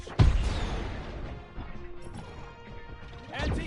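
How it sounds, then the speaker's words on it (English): Grendizer's Geyser punch lands in the PS5 Grendizer game as a loud heavy crash at the start, then decaying metallic clatter and rumble, with a second swelling hit near the end. "Geyser punch!"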